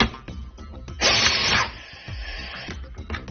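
A direct-driven pneumatic LTP nut runner with a reaction bar tightens a hard joint, giving a short burst of mechanical whirring and ratcheting clicks that stops quickly, close and fairly loud.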